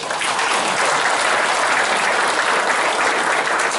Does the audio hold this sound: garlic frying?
no